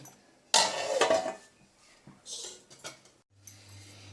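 A lid set onto a pot of Andhra-style dal with palak, fenugreek and dill leaves simmering on low gas, one bright metallic clatter followed by a few lighter clinks, then a quiet low hum.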